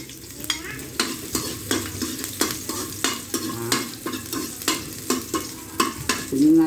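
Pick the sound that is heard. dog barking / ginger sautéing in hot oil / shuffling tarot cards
ginger sautéing in hot oil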